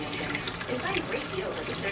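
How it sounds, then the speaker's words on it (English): Warm water is poured over a fluffy Aussiedoodle puppy during its first bath, a steady, close rushing and splashing that continues throughout with slight swells in intensity. "just using a little warm water. And just gonna get him good and wet."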